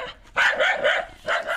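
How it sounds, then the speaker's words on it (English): Domestic dogs bark in three short, close bursts with a brief pause before the last, with no people talking over them. "Any unwanted sound such as domesticated dogs barking,"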